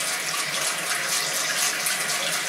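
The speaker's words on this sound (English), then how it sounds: "we'll go over it with lukewarm water again" Lukewarm water runs steadily from a tap for rinsing, making a continuous, close splashing rush with no talk over it.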